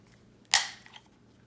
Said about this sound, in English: So we can snap on the end cap, which is going to sit